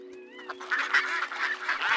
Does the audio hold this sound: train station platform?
no